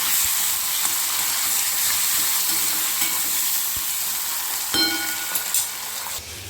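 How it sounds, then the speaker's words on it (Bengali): Chopped tomatoes drop into hot oil tempered with dried chili, giving a steady, close sizzle of frying with occasional stirring scrapes and a faint clink, no voices over it. "তেলের ভেতরেই দিয়ে দিচ্ছি কেটে রাখা টমেটোগুলো। টমেটোটা একটু ভেজে নিতে হবে।"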